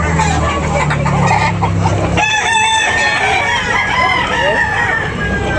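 Chickens cluck and a rooster crows loudly nearby in a backyard in the morning, with the flock's chatter continuing underneath a busy outdoor backdrop.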